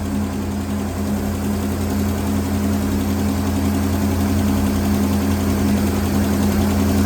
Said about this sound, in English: I'm going to go ahead and take my idle back down to 725, 750, something like that